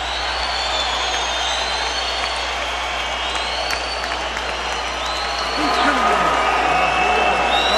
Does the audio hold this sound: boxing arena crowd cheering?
yes